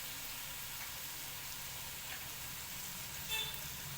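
Fresh ginger paste frying in a pan for egg curry gives a faint, steady sizzle and hiss that stays even throughout, with no talking.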